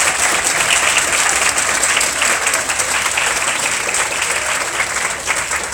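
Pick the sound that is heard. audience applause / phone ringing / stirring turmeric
audience applause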